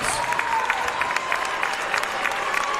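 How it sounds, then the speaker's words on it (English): Crowd applause and light cheering fill a basketball arena during halftime, a steady dense clatter with a faint voice or tone running beneath. "Let's give a round of applause to our 3 2024 Track and Field Outdoor All-Americans."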